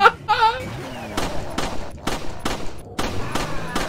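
Gunshots in the Resident Evil 4 Remake, a series of sharp single shots spaced roughly half a second apart, loud and close, following a brief vocal sound at the start.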